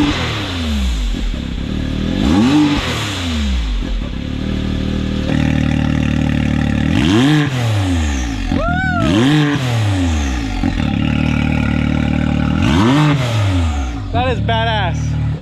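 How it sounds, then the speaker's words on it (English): A 2021 Can-Am X3 Turbo RR side-by-side fitted with an Evo Powersports Shocker exhaust revs repeatedly, each loud blip rising and falling sharply, with turbo whistle and chatter between pulls; voices talk over it close by. "give it a couple revs"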